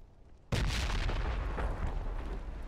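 A grenade detonates in a military shooter game with a sudden loud, close boom, followed by a rumbling, debris-filled tail that slowly fades.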